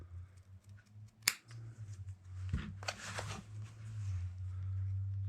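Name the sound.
leather scissors trimming thin leather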